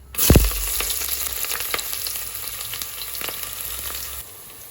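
Onion hits hot oil in a pan with a loud initial sizzle, then keeps frying in a steady crackling hiss for several seconds, close and with no voices.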